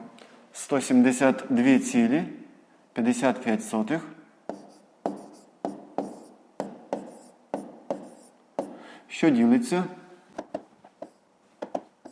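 Handwriting during a fifth-grade long-division exercise: short, crisp pen strokes tick out in an uneven run between stretches of a person talking, with faint scratching under the voice.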